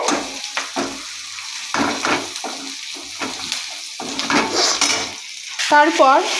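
Potatoes go into a pan of frying onions, giving a lively sizzle and clattering stirring strokes with utensil knocks, then louder sputtering near the end.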